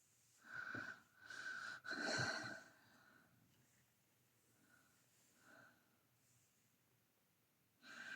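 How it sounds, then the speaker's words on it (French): Heavy, tired breathing close to the microphone comes in three loud rasping, wheezy bursts, then fades to softer breaths, with another strong breath at the end. "Je respire fort, c'est la fatigue"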